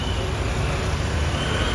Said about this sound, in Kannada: RCB ಬಸ್ ಇದೆ ನೋಡಿ ಇಲ್ಲಿ.